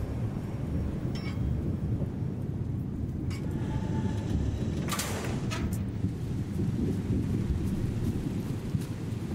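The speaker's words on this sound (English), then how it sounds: "God, it's raining." In the Siberian survival horror game Expedition Zero, rain and thunder form a dense, steady roar, with a few crackling bursts standing out partway through.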